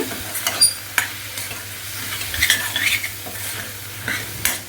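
Gongura leaves and chili powder are stirred in a hot pan, with a soft sizzle beneath repeated scraping strokes and light clinks of a spoon against metal, close and fairly quiet.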